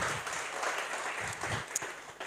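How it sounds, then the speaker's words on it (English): A crowd at a book launch in Kigali claps in a fairly quiet, steady round of applause, with scattered sharper claps standing out against the soft wash. "Can we give them a round of applause?"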